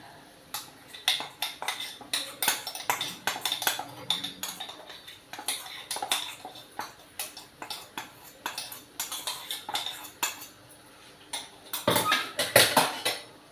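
A metal spoon scrapes and clinks against a pan while peanut powder is stirred into bottle gourd curry, producing a steady run of light, irregular clatters that grow busier near the end.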